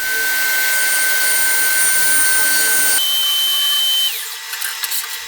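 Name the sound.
saw cutting wooden French cleat strips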